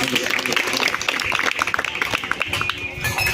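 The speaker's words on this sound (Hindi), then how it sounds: "एक बार जोरदार आप लोग तालियों के साथ स्वागत करेंगे" A crowd gathered at a temple bhandara applauds, brisk irregular clapping mixed with crowd noise and voices, fairly close and continuous throughout.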